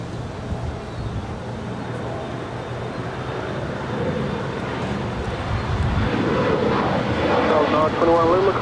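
An Alaska SkyWest Embraer E175 LR jet departs LAX, its engine roar a broad, steady rumble that swells louder toward the end, with voices murmuring underneath.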